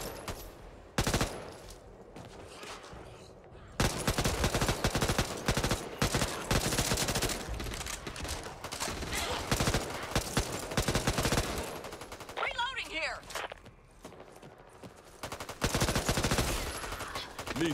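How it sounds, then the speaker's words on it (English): Rapid bursts of automatic gunfire in Back 4 Blood on Survivor difficulty, loud and dense with short gaps, mixed with other game noise throughout. "Yo, stop shooting me."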